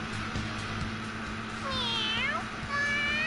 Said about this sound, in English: Stop meowing in my ear.